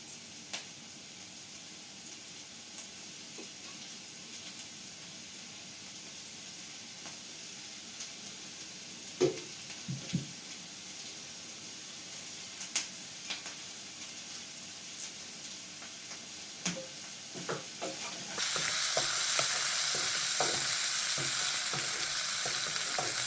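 Onions fry in a pan for chicken curry, a quiet sizzle broken by sporadic clinks and scrapes of a stirring spoon, swelling to a louder, hissing fry near the end, with no talking.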